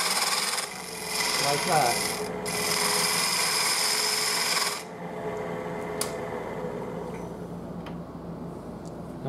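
Bowl gouge cutting wood on a spinning lathe, a broad rasping scrape that runs loud for a few seconds, breaks briefly, resumes, then gives way to quieter motor hum and a brief spoken remark.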